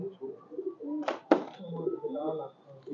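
Migratory pigeons coo softly and repeatedly nearby, with a brief sharp rustle or flap partway through.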